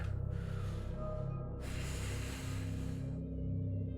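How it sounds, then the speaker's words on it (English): A demon breathes in a Warhammer 40k audio drama, slow, heavy and hissing, with two long breathy swells over a low droning rumble, alone with no voices. "The sound of the demon's breathing was all that Karn could hear"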